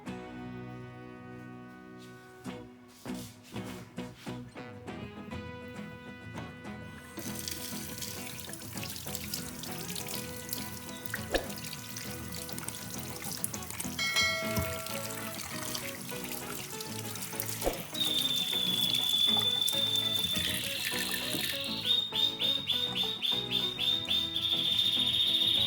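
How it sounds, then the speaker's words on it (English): Fresh tap water runs steadily over ginger rhizomes as they are washed, a continuous splashing trickle with light clatter and handling noises in a quiet setting. "After soaking, wash the ginger thoroughly with fresh water."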